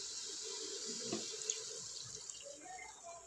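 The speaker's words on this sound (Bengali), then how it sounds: "এবারে দিয়ে দেব জল" Hot water poured into a pan of mushroom curry: a steady, continuous splashing pour runs throughout, close and fairly even, with no voices.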